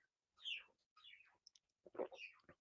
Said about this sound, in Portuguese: Vocês estão ouvindo o barulho aqui dos passarinhos, né?